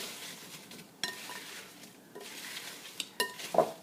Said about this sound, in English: So use your spoon and just mix it and make sure everything is coated evenly.